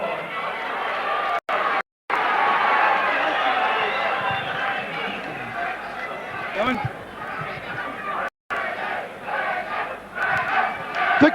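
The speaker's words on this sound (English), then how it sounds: "The crowd here at the St Albans Indoor Complex have gone absolutely crackers." A loud crowd roars and shouts continuously at a super heavyweight boxing match in the St Albans Indoor Complex, with the noise swelling and surging. A commentator's voice runs over the top.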